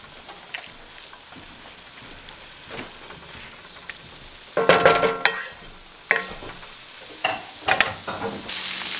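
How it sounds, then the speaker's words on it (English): Ground hamburger meat and onions browning together in a pan, a low steady sizzle broken by louder bursts of spatula scraping and stirring that grow busier in the second half, heard up close. "We're just going to let the onions get brown and the hamburger meat"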